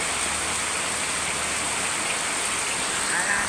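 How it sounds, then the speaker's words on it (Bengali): Heavy monsoon downpour, heard from inside a shop, roars as a steady, dense hiss that stays loud and unbroken throughout, with no voices. "দেখো কিরকম জোরে বৃষ্টি হচ্ছে।"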